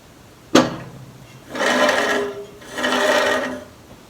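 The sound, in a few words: Craftsman 12-inch vertical bandsaw running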